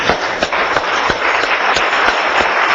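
A church congregation applauds during a service, loud, close clapping with distinct sharp claps standing out over a dense patter, sustained and even for the whole short stretch.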